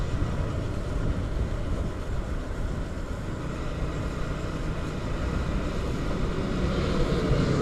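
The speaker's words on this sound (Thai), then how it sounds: "เครื่องบินขึ้นนะครับผมเครื่องบินขึ้นใกล้มากลำใหญ่มาก" A large airplane taking off close by at Ubon airport in Thailand gives a steady, loud low roar that holds evenly throughout, with no talk over it.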